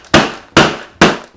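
Chilled Maltesers are crushed for a cake topping in three sharp, loud cracking crunches, evenly spaced and close, each shattering burst fading quickly.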